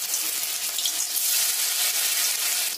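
Spiced pumpkin fritter batter lands in hot white oil and fries with a loud, close, steady crackling sizzle that holds throughout.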